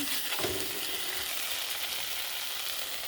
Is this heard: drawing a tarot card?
no